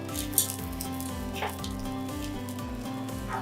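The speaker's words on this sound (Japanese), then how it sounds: "このまま、両面焼き色がつくぐらいまで焼いていきますね。" Yellowtail fillet pan-frying over medium heat, a steady close sizzle and crackle holding evenly throughout with faint pan taps, no voices.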